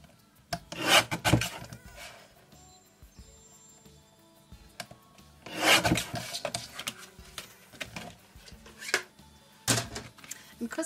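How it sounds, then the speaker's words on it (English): Card being cut on a Tonic paper guillotine, with two loud rasping slicing strokes of the blade near the start and middle, among lighter rubbing and handling sounds close by. "Just using my tonic guillotine."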